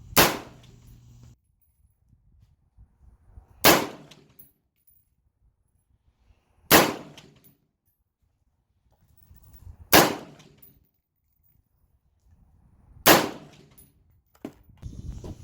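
Five loud, sharp rifle shots from a Del Ton AR-15 with a 20-inch barrel crack out at an outdoor range, evenly spaced about three seconds apart, each ringing briefly before near silence.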